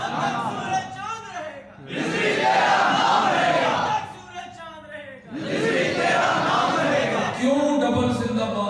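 At a Muslim religious gathering, a large crowd shouts slogans in unison with a leader, loud surging responses alternating with quieter calls in a call-and-answer rhythm.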